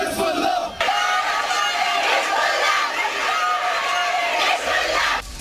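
A Shia protest crowd in Kashmir chants slogans in support of Hezbollah, a loud, dense mass of voices shouting in unison. The chant runs with brief breaks and sounds close and continuous throughout.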